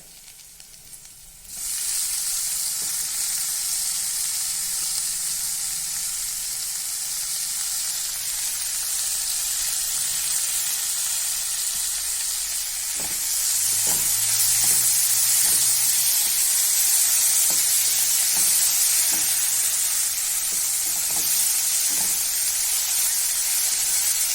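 Tomatoes sizzle steadily in a pan of frying okra, a loud hissing fry that swells after a short quiet start, with soft clinks of stirring in the later part.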